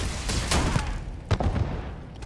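In the space shooter game Starfield, a grenade bursts into a loud, booming blast with a rolling rumble, and sharper cracks and thuds follow close behind over the noisy game mix.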